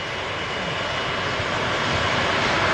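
A Jet2 airliner's engines roar at Manchester Airport, a dense, steady broadband rush holding at a constant loudness throughout with no voices.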